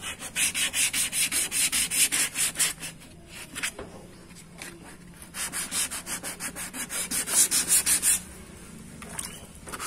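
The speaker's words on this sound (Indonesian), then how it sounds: "Amplasnya kita dilakukan dengan bantuan air ya. Kita gosok di sini." Rhythmic back-and-forth rubbing of wet 1500 or 2000 grit sandpaper on a plastic car headlight, quick regular strokes with a short pause midway, close and clear.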